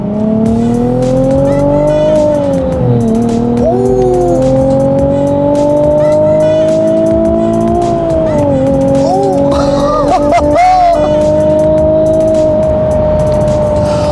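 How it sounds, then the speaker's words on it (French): A small V6 sports car engine revs on a highway, its loud, smooth tone rising and falling with shifts, rumbling close and alone without talk. "Oh, j'espère que vous l'entendez parce que là ce petit V6 il est très agréable"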